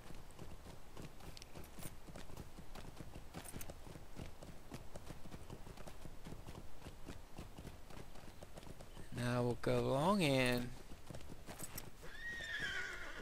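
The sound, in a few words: horse hooves clip-clopping, from a video game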